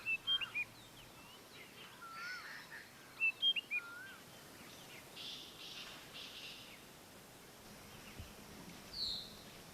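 A rufous woodpecker calls in Indian forest, short faint chirping notes in small bursts against a quiet, hissy natural background.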